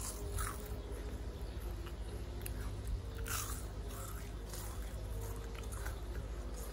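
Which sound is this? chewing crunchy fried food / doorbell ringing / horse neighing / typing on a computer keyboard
chewing crunchy fried food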